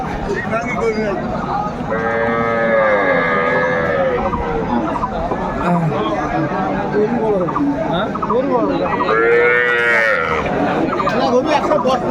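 Cows with calves at the Aftabganj cattle market let out two long, drawn-out moos several seconds apart, rising over steady crowd chatter and nearby talking.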